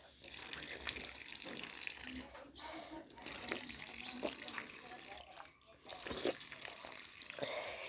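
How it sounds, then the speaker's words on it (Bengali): Tap water runs steadily from a hand-operated tubewell-style faucet outdoors, a continuous splashing stream with some fluctuation, under intermittent talk. "আপনাদের আর টিউবওয়েল দিয়ে আসতে হবে না, এটা দিয়ে সহজেই জল বেড়ায়।"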